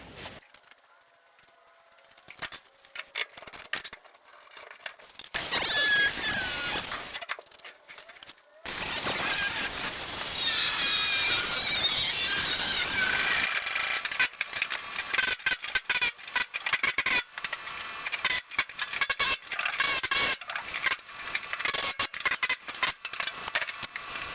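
A cutter wheel saws into the kick panel of a 1969 F100 in two sustained, harsh, loud grinding bursts. Scattered knocks and clanks of metal work come before and after.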